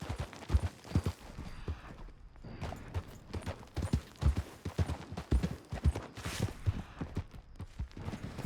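Hooves of a ridden horse in a video game clip-clopping in a steady, brisk rhythm, close and clear and continuing throughout without talk.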